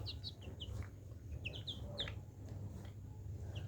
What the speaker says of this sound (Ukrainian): то ростуть гарно курчатка